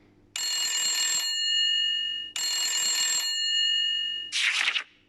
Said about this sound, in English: Phone goes bring bring.